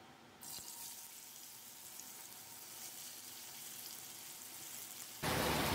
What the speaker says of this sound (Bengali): এবার মুগ ডালগুলো দিয়ে দিচ্ছি।